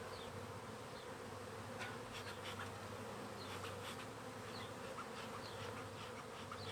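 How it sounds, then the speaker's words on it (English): Honeybees swarm around an opened hive during an inspection, a dense continuous buzzing drone with individual bees zipping close past, steady and loud throughout with no talking. "I don't know if you can see all these bees that are all flying around right now"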